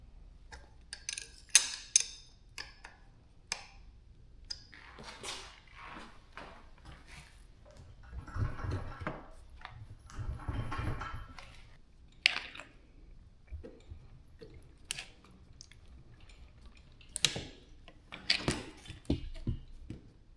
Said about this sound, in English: All we need to do on this side is gonna be to loosen this bolt.